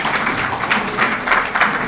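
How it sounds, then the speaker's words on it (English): Crowd applause fills a hall at a Kashmiri American Alliance New Year celebration and opening ceremony, a loud, continuous patter of many hands with slight swells. "Give him a round of applause,"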